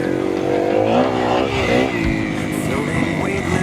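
A Kawasaki KX250F dirt bike engine revs and bogs in rising and falling pitch while riding through the woods, loud and close, with a rider's voice talking over it.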